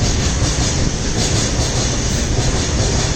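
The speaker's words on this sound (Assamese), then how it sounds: "এতিয়া ট্ৰেইনটো গ'ল" A train rushes past close by, a loud, steady rumble of wheels and wagons with a broad roaring hiss that holds at full strength throughout.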